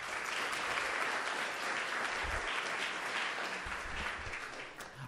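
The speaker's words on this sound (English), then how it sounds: "Please join me again in a round of applause." An awards ceremony audience claps in a steady, fairly distant round of applause, a continuous even patter lasting several seconds without speech.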